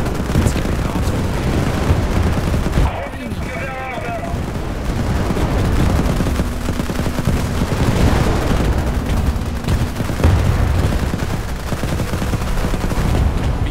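Combat in the strategy game Global Conflagration, dense rapid gunfire and bursts of machine-gun and artillery-like booms running continuously, with voices speaking over the battle.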